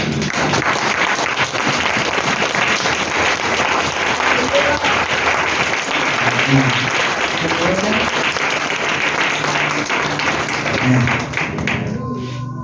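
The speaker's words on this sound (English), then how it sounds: "That you like us to stand and clap for them." A church congregation applauds in a long, dense, even wash of clapping that lasts several seconds, with occasional thumps and voices mixed into the crowd.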